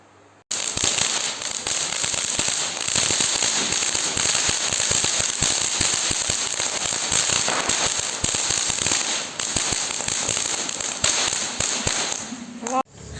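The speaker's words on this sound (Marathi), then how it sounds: "हे सुतली बॉम्ब. झालं, चला आता लगेच पेटवू." Firecrackers set off during Diwali, including a sutli bomb, start abruptly with dense, sustained crackling and popping that lasts many seconds. Voices can be heard underneath.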